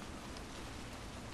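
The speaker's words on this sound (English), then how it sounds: "I love the rain effect on here, though." Rain in the Resident Evil Revelations 2 video game hisses as a dense, even wash of falling drops, constant and moderately quiet with no other sounds.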